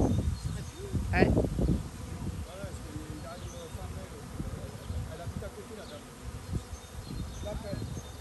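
Honeybees swarm at a hive entrance in a shared garden, a dense, close buzzing hum that carries through the whole stretch while voices talk intermittently over it.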